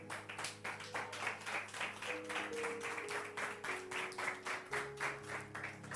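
A church congregation claps together with steady, rhythmic applause that carries on throughout, backed by a sustained organ or keyboard chord underneath.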